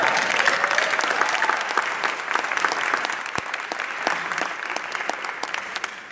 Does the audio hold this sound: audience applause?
yes